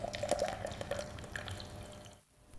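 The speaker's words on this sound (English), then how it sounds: "Clear green gold dripping through." Clear green-gold liquid from shredded old computers drips through filter paper, a quick run of small bright drips and trickles close by that slows and thins before falling quiet near the end.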